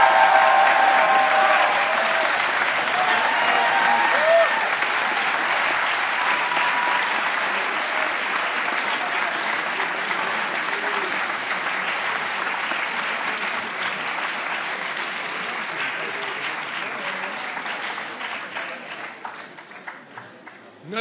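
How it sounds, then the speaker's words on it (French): Sustained audience applause at the HEC Paris eloquence contest final in 2025, dense and steady clapping from a large crowd that gradually thins and fades toward the end. "Je vous demande des applaudissements particulièrement pondérés pour saluer l'arrivée sur le Josa"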